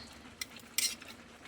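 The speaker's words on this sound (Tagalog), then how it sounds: "Cheese. I-mix natin." A spoon scrapes and clinks against a pot while cheese is stirred into buffalo meat kaldereta, a couple of brief metallic scrapes over a faint sizzle.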